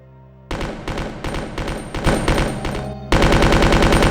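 A video game automatic weapon fires in rapid bursts through a turbo-switch controller, loud machine-gun rattle starting abruptly and continuing in several fast volleys with brief gaps between them.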